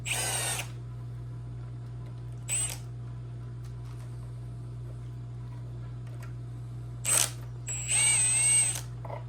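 Short bursts from a power drill or impact tool loosening head bolts on an old seized motor's cylinder head, with brief whirring pulses spaced apart over a steady low hum, no talk.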